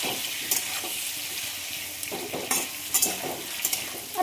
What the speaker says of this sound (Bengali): এবার আলুর সাথে চিংড়ি মাছগুলোকেও একটু ভালো করে ভাজবো।